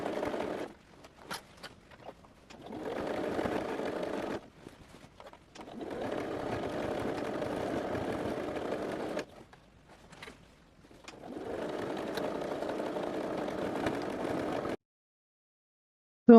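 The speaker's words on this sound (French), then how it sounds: "on va déjà faire un point droit et un point zigzag" A sewing machine runs close and loud in three long bursts, sewing straight and zigzag stitches around a fabric tote bag, with short pauses and faint handling noises between runs.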